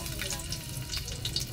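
Garlic frying in cooking oil in a pan, a dense continuous sizzle heard close and fairly loud, with faint scraping above it and no talk.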